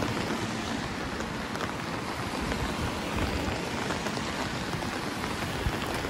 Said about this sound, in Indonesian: hujannya kecil lur, tapi lumayan lur bikin basah baju